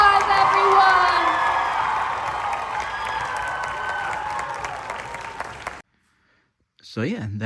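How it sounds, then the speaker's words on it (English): Large convention crowd at GalaxyCon Animate Raleigh applauding and cheering loudly, dense clapping with whoops fading over several seconds, then a sudden cut to silence before a voice speaks. "One more round of applause, everyone!"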